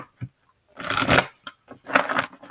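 Tarot cards shuffled by hand in two bursts of riffling and scraping, close and fairly loud, with short quiet gaps between them and no talk.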